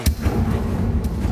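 The Incendio fire spell is cast in the game Hogwarts Legacy: a loud whooshing burst of flame with a sharp onset, followed by a rolling crackle and a second brief flare near the end.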